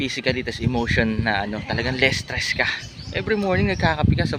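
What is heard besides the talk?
No distinct noise like a dog, phone or traffic.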